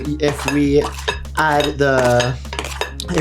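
Two identical knives scraping and clinking in a bowl as they cut flour for butter cookie dough, metallic rattles and scrapes close up and fairly loud under continuous talking.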